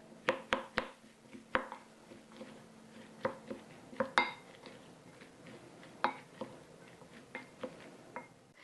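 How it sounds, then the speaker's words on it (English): Grated apple and carrot stirred together in a bowl with a wooden spoon, a series of soft, irregular knocks and taps close by with quiet scraping between them. "Give it a good stir with a wooden spoon to mix."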